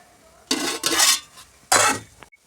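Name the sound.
stirring rice in a pot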